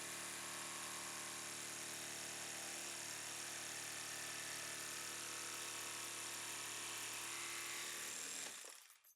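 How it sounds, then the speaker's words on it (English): A saw cuts a curve through wood, a steady loud buzzing drone that runs continuously for about eight seconds and then stops abruptly, with no voices over it. "with the saw in the same position, cut the remaining curve"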